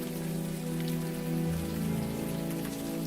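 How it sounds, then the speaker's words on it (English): Heavy rain pours steadily in the Unavowed video game, a dense, constant hiss of downpour with no voices, filling the whole stretch at an even level. "It's fucking pouring down raining, man."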